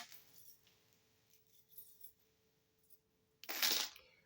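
Small metal charms jangling as they are picked up, a faint tinkle early on followed by a louder brief clinking rattle near the end, close by and without talk.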